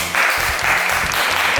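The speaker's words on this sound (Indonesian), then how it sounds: "memberikan tepuk tangan yang paling meriah" An audience at an MC event claps enthusiastically, a dense, steady roar of applause filling the room.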